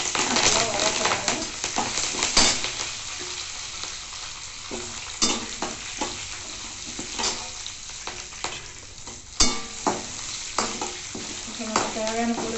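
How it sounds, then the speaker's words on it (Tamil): Pirandai (adamant creeper) chutney ingredients sautéing in a pan, a steady frying sizzle with repeated scraping stirs of a spoon throughout, close and fairly loud. "இப்போ நம்ம தேவையான பொருள் எல்லாத்தையும் சேர்த்து வதக்கி எடுத்துக்கலாம்."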